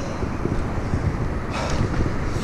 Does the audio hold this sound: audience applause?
no